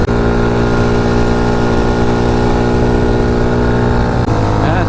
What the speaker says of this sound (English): Well, it sounds pretty good.